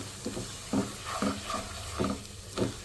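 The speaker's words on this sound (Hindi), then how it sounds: "अब हम सूजी को भूनेंगे" One cup of semolina roasts in one cup of ghee for sooji halwa, a soft low sizzle under repeated gentle scraping strokes of a spoon roughly every half second, fairly quiet and close, with no talking.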